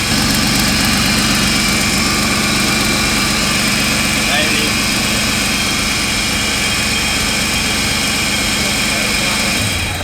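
A turbocharged Ecotec engine in a Holden VS Ute idles with a steady, loud, low rumble and a slight exhaust leak, running throughout while a voice speaks briefly over it.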